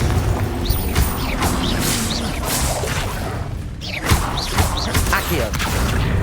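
Repeated magical blasts of the Confringo fire spell in Hogwarts Legacy, loud bursting whooshes and crashing impacts layered with busy game effects over a continuous dense background.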